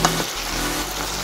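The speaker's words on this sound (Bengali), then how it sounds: "এভাবে সবগুলো শাক দেওয়ার পর আমি নেড়ে চেড়ে দেব।" Leafy greens frying in a pan give off a dense, loud, continuous hiss and crackle, with a brief scrape of stirring at the start, heard up close.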